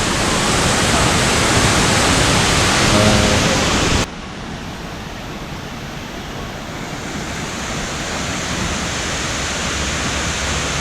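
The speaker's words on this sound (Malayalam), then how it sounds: "ഇത്ര ഉയരത്തിൽ വെള്ളം ചാടുന്നുണ്ട് മുകളിൽ നിന്ന്" Roadside waterfall on a Kerala trip through Kottayam and Idukki, water dropping from a height: a steady, loud broadband roar that fills the whole clip, briefly louder at the start before settling to a constant rushing wash.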